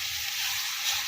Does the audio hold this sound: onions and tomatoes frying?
yes